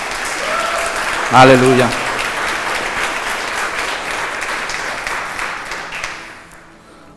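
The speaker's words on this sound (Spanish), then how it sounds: "Dele un fuerte aplauso al Señor." A church congregation bursts into strong applause during a Spanish-language sermon, a voice calling out briefly over the clapping, which holds steady and then fades away.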